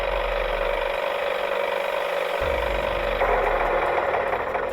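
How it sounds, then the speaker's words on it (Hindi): A tractor engine in an animated cartoon runs steadily with a loud, continuous mechanical drone and rattle that shifts in tone partway through, heard alone. "रोशन वहां से अपने ट्रैक्टर पर गुजर रहा था।"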